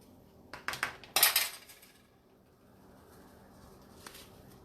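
Sugar sprinkled onto Mod Podge–coated faux fruit gives a few short, crisp granular rattles and patters close by, the strongest burst lasting about half a second before things go quiet.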